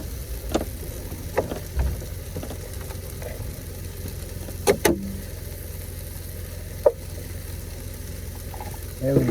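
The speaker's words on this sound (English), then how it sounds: "going to stir this all together" Food stirred with butter in a sizzling pan on a tiny house stove: a steady frying hiss with scattered scrapes and utensil clacks, close and moderately loud, no talking.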